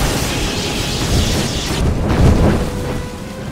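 Blast globe exploding in the Neverwinter Nights 2 fantasy game, a loud, dense roaring burst with a crackling, rumbling tail that swells again briefly before fading, with no talk over it.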